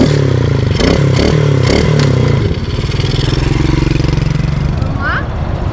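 A child's small motorcycle at a drag racing event revs and pulls away, a loud buzzing engine tone that drops after a couple of seconds as it rides off, with voices over it.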